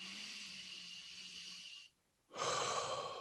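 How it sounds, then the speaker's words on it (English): A slow, deliberate breath is drawn in, followed by a brief pause and a stronger breath let out during a meditation. Both are close, soft and airy, with no talking. "Every time I take a conscious breath in, I know I'm breathing in more love."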